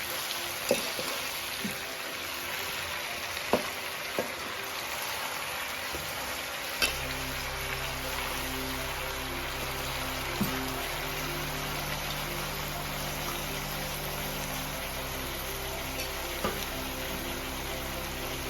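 Fresh gongura (sorrel) leaves cooking in a pan with turmeric for gongura pachadi, a steady soft sizzle throughout with a few small clicks of stirring, the tone shifting as the leaves go in.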